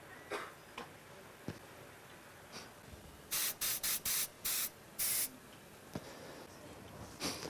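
Airbrush spraying red cocoa butter into a small box for plated desserts: five short, loud hissing bursts in quick succession mid-clip, with faint clicks and handling noises around them and no talk.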